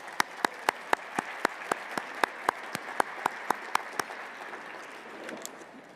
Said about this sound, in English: Why don't we do a round of applause for everybody who's here today?